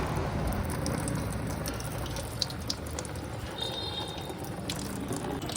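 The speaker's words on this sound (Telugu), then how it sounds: "మనం వాటర్ బెలూన్స్ని పంపు ద్వారా పంప్ చేయాలి" Water rushes steadily from a tap-fed pump into a kit of water balloons for Holi, a continuous close splashing flow with a few small clicks and no speech.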